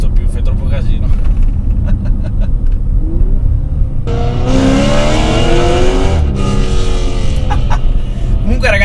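A BMW M3 engine revs hard through an aftermarket Arbitrix exhaust, building from a low rumble to a loud, rising roar that peaks and drops back, with people talking throughout.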